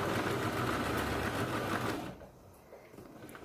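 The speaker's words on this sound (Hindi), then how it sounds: "जो सिलाई हमने लगाई है उसी सिलाई के ऊपर हमें डबल सिलाई लगानी है" A sewing machine runs a double line of stitching on a blouse: a steady, close, whirring mechanical hum with fast, even needle clatter for about two seconds, then it stops and leaves quiet room sound with faint small clicks.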